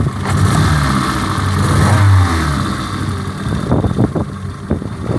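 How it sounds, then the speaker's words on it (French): Peugeot 106 engine with a fault, revving up unevenly and struggling to climb in a steady rise, loud and close throughout, with rough fluttering pulses near the end and no talk. "si on accélère, on entend bien que le régime il monte pas de façon correcte"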